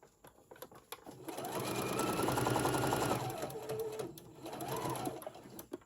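A sewing machine runs steadily for a few seconds, stitching a small stuffed fabric gingerbread decoration, close and clear, then slows to a brief second burst of stitching after a pause.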